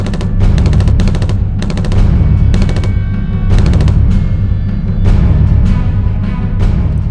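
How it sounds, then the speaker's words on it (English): Gunfire from armed attackers inside a synagogue comes as loud, rapid bursts of automatic shots over a heavy, booming rumble, with several volleys separated by short gaps. "2 armed Palestinian terrorists enter the synagogue. They open fire."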